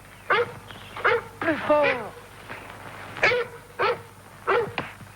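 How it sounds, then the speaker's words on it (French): A dog barks loudly in a colorized Ivanhoe episode, about seven sharp separate barks at an uneven pace close by, with a voice briefly speaking between them. "Ce chien fait un tel vacarme, je n'entends rien."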